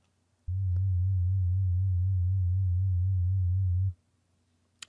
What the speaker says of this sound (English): because we are using a sine wave, we don't have many harmonics to affect, so our filter does nothing.